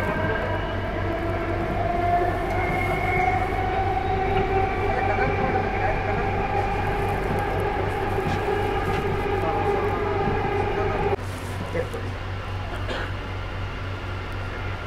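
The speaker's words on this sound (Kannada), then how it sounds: "ಇದು ನಾವು departure ತೊಗೊಂಡ್ಬಿಟ್ವಿ central silk board metro ಸ್ಟೇಷನಿಂದ" Bengaluru Yellow Line driverless metro train departing Central Silk Board station, a continuous loud rumble with rising motor whine and steady rail noise throughout, heard from inside the car.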